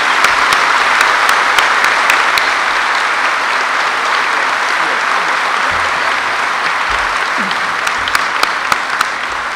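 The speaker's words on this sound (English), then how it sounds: "Please join me in a round of applause for Mr. Saxton in thanksgiving of his service." A crowd at a high school commencement gives a steady, loud round of applause for Principal Saxton, with dense clapping sustained throughout and a few sharper individual claps on top.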